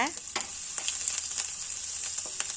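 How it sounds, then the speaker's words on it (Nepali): Cumin seeds sizzle and crackle in hot oil, a bright continuous hiss broken by small irregular pops, close up with no talking. "अब जिरा दानालाई एकछिन फुरिन दिनुपर्छ।"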